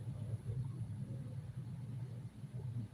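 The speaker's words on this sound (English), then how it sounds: "I'm sitting in my car warming it up." Car engine idling while warming up, a faint, steady low rumble holding evenly throughout with no other clear sounds.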